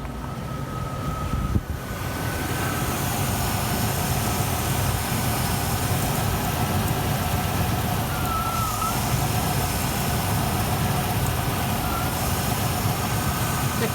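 A Rover SD1 engine idles at a steady, unchanging speed during carburettor adjustment, a continuous low rumble heard close by for the full stretch, with a faint high whine riding above it and no talk.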